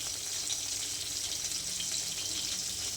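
Pabda fish sizzles in a frying pan with a constant, bright hiss of hot oil that holds at an even level from start to finish, with no talking.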